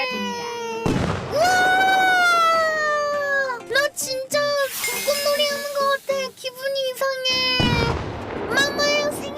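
Dragon Battery fireworks go off at a night-time birthday celebration, with sharp bangs and crackling bursts interrupted by excited shouting, laughing and whistling voices close by.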